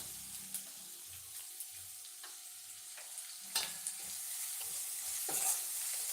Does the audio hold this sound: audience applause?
no